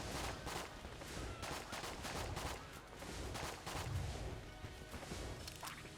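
Rapid bursts of gunfire from the Enter the Gungeon video game crackle on and on, dense and busy, over a steady mix of game music and effects.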